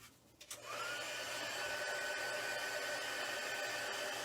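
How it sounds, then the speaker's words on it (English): Craft heat tool of the kind used for Stampin' Up! heat embossing switches on and blows steadily, a loud continuous whirring hiss that holds constant without any voices. "Okay, so I'm going to close this up, and we're going to do the heat tool."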